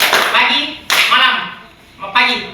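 Three sharp group hand claps punctuate the classroom clapping game "tepuk pagi", each followed by voices chanting in rhythm, loud and close.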